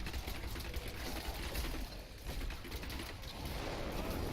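Grenades thrown during a Diablo 3 Reaper of Souls hardcore season run pop in a dense, continuous crackling barrage, rapid and fairly quiet, mixed with other combat noise.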